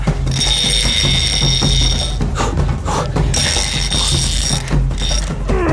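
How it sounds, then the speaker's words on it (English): A fishing reel's drag clicks and whines steadily while a giant catfish on the Amazon River strips line against a fully tightened drag. A loud ratcheting buzz runs the whole time, with two long high-pitched screeching stretches. "my drag is totally tightened and the line, it can break any time"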